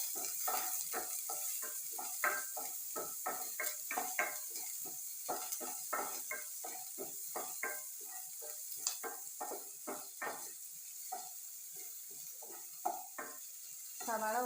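Finely chopped onions sizzle in a pan for a curd curry while a spoon stirs them in quick, repeated scraping strokes, close and clear over a quiet, steady frying hiss.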